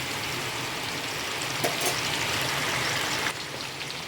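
A steady, even hiss of rain falls outside, constant and moderately loud, easing slightly near the end.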